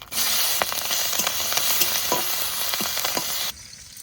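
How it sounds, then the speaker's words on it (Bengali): Green chilies, slit lengthwise, fry in hot oil alongside dried red chilies, coriander and nigella seeds, a steady close sizzle with scattered sharp pops and spatters, cutting off abruptly near the end. "কাঁচা লঙ্কা একটু ভালো করে ভেজে নিয়েছি"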